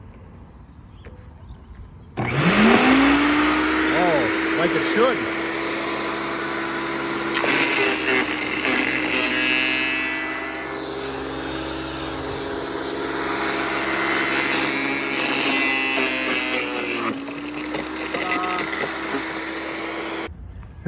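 An Earthwise GS70015 electric chipper shredder starts up with a rising whine and then runs steadily at high speed, loud and close, its motor hum holding for about eighteen seconds, with a brief spoken comment over it.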